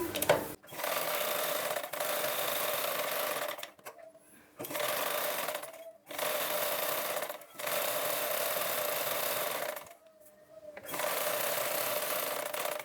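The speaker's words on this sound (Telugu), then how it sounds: "ఇది దానికోసమనే ఇక్కడైతే మనము కుట్ట అనేది వేసేసుకుందాం." Sewing machine stitching blouse cloth, running in several long steady bursts of rapid mechanical chatter separated by short pauses, close and loud with no talking.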